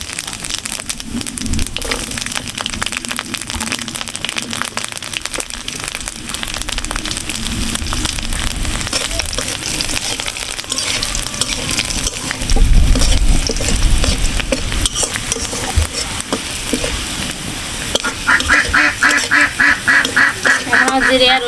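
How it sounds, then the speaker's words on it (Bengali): Cumin seeds and garlic fry in hot oil in a Bengali kitchen, a loud continuous crackling sizzle with scraping stirs, running steadily across the whole stretch with a brief louder surge midway. "এখন আমি জিরে আর রসুনটা ভেজে নেবো"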